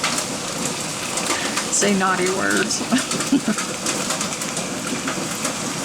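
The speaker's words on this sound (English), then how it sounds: "Yep, it's hailing." Heavy rain and hail falling steadily outdoors on a summer day, a dense continuous patter of drops and pellets; people talk over it and birds coo nearby.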